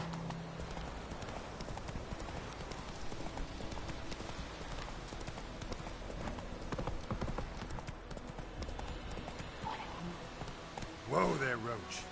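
Horse Roach galloping in the Witcher 3 video game, with a rapid, continuous clatter of hooves. A person talks over it, and a brief louder burst comes near the end.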